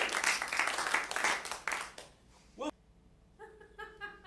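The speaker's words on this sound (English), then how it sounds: "Let's give a round of applause." Audience at an improv marathon show claps and laughs for a couple of seconds, then the noise cuts off abruptly and a short tonal sound follows on a quieter background.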